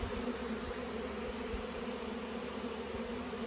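Swarm of honeybees moving into a bait hive, a dense steady buzzing hum of many wings close by, continuous and unbroken throughout with no talking.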